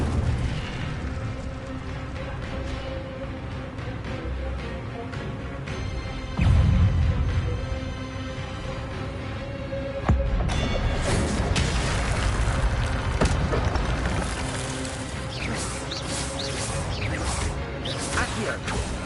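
Incendio fire spell explosions in Hogwarts Legacy, two heavier blasts standing out from a dense, continuous wash of combat effects and game noise, with a further burst later on.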